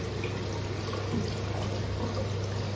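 Water poured over hands for washing, a steady broadband splashing stream that stays constant and fairly close from start to finish, with no voices over it.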